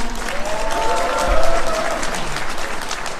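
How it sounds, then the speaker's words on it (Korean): After Mayor Lee Jae-myung's lecture, an audience gives a steady round of applause. It holds at an even, moderate level through the whole stretch, with a faint murmur of voices underneath. "뜨거운 박수 부탁드립니다"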